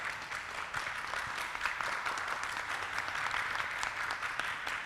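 Audience applause at a live show, a dense steady patter of many hands clapping at moderate distance, continuous throughout with no voices over it.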